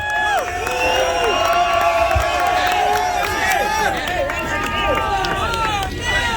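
A large rally crowd in New York cheers and claps, with whoops and shouts rising over a constant roar of voices and applause, loud and sustained throughout.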